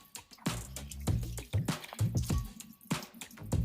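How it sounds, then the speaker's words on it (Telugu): Water drips from freshly washed rice draining in a strainer into a bowl below, with close, irregular wet drops and soft splashes sounding alone in quick succession. "ఇలా రైస్ని స్ట్రైనర్లో వేసి కిందన ఒక గిన్నె పెట్టాలండి, ఎందుకంటే వాటర్ కారుతుంది కదా"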